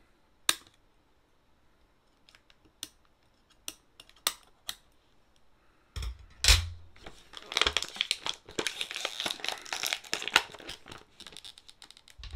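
Close-up crinkling and crackling of plastic packaging as a small figure is cut free: a few sparse snips and ticks, then a dense, loud stretch of rustling and tearing, with no voices.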